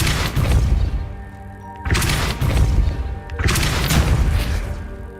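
The Depulso spell being cast in a Harry Potter video game, heard as three loud, heavy booming blasts in a row, each rising sharply and then rumbling out over a second or so.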